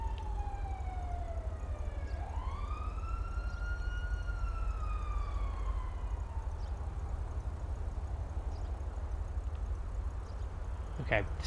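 A police siren in the video game GTA 5 wails from a distance, rising and falling in a long slow sweep over a constant low rumble, faint and fading out after several seconds.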